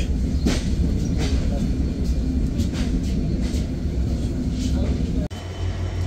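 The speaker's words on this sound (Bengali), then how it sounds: "ট্রেনটি ছেড়ে দিল বেনাপোলের উদ্দেশ্যে" A passenger train pulls out of a station bound for Benapole, with a loud, steady low rumble and a rhythmic rattle of the carriages that continues throughout, then briefly cuts out near the end.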